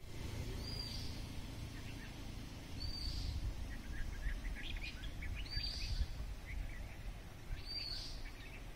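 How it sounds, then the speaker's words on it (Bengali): Birds calling in a quiet forest in Buxa Tiger Reserve near a gently flowing stream: a few short, high chirps come at intervals over a soft, steady low rush of water, fairly distant and calm, with no talking. "নিস্তব্ধ, পাখি ডাকছে আর কুলকুল করে একটা হালকা ঝর্ণা বয়ে যাচ্ছে"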